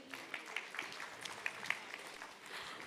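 Moderate applause from a conference audience, steady clapping texture throughout with a few sharper individual claps, at medium distance and fairly quiet.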